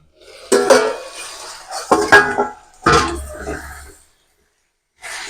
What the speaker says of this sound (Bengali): এবার আমি ঢাকাটা খুলে একবার দেখবেন।